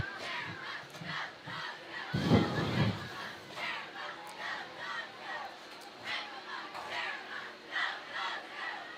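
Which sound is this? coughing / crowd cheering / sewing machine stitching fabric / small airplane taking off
crowd cheering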